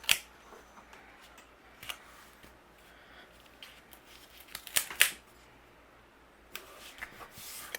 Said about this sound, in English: I trimmed down a real thin strip with the leftover cardstock